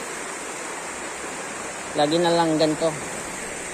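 Running stream water flows steadily while clothes are washed outdoors in a rural province, a constant broadband rush throughout with a person speaking briefly over it near the end.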